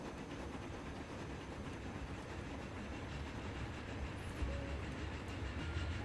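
A train in the Transport Fever 2 simulation game rolls past with a steady, dense rumble and a faint high squeal near the end, continuous and moderately quiet, with no talk.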